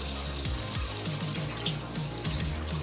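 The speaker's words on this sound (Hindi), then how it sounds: "अब इसके अंदर हम पानी ऐड करते हैं।" Water poured into a pot of vegetables while cooking pulao, a continuous splashing pour heard close up with a low bubbling gurgle underneath, steady for the whole moment.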